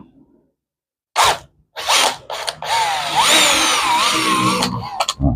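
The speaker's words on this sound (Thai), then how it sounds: "พอเจาะ5มิลเสร็จก็เรียบร้อยนะครับ" Power drill boring a 5 mm hole for a switch on a Honda Dax125, a few short whirring bursts and then a sustained high, strained grind that runs several seconds before stopping.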